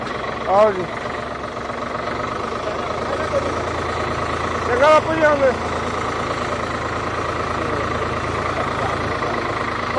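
A heavy tractor engine chugs slowly and steadily at low revs in a flood-affected village, with brief bursts of voices over it.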